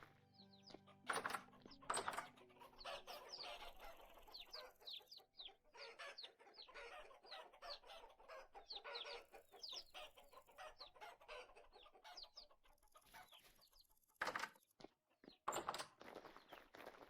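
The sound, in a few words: chickens and rooster clucking in the video game Vintage Story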